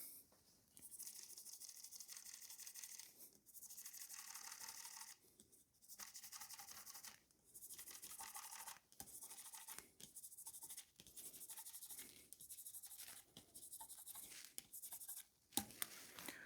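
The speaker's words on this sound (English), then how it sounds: "I'm done with the polishing of the frets" The metal frets of a Les Paul electric guitar are polished with repeated close back-and-forth rubbing strokes, a dry scratchy hiss in bursts with short gaps, and no voices.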